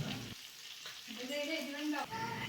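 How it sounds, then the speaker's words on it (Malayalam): Food shallow-fried in a little oil in batches, giving a continuous close sizzle and crackle with stirring noises, and a voice speaking over it. "കുറച്ച് ഓയിലിൽ രണ്ട് ട്രിപ്പായിട്ടൊക്കെയാണ് വറുത്തെടുക്കുന്നത്"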